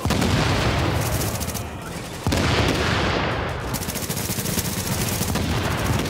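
Heavy gunfire in the video game The Division, loud rapid bursts of automatic shots layered with booming impacts, nearly continuous with a brief lull before another intense volley.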